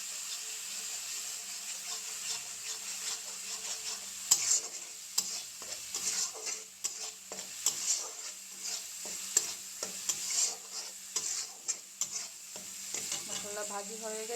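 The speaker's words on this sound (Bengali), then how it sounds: "দিয়ে দেব জিরে গুঁড়ো, ধনে গুঁড়ো দিয়ে ভালো করে মশলাটা ভাজি করে নেব" Cumin and coriander powder with turmeric fry in hot oil in a pan, a steady loud sizzle with repeated scraping stirs of a spoon against the pan throughout.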